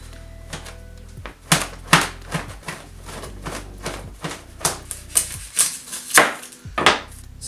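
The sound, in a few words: chopping garlic with a knife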